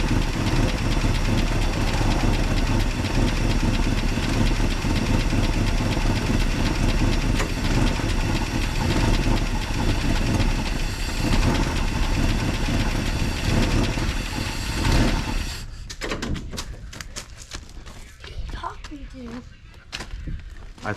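A 1965 Chevy C10 pickup engine idles after start-up, a loud, steady, rough rumble close to the microphone that holds for most of the stretch before dropping back near the end amid clatter and movement.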